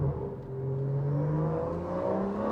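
BMW M140i engine accelerating, a rising mid-pitched drone that climbs steadily in pitch through the gears, close and fairly loud with a whirring edge and no talk.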